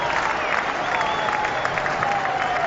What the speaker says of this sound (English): Applause there from the dressing room.